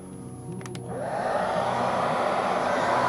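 A hair dryer blows on a part from a BMW F650 motorcycle, its loud, close rushing hiss swelling to full power and holding steady throughout.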